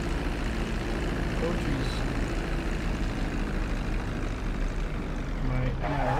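Aircraft in Grand Theft Auto V coming in to land, a steady droning engine roar holding loud and close throughout, with a voice talking over it.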